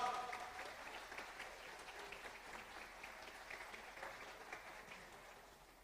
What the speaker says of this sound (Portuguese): Você pode aplaudir o Senhor por essa mensagem?